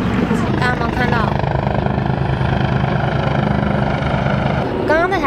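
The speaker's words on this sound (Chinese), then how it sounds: "我刚刚那台直升机就是一这样子来来回回，然后飞了好多次，好吵。" A helicopter passes back and forth over a Hong Kong waterfront, its rotor drone a loud, steady rumble throughout while a person talks over it, with bird-like chirps rising near the start and end.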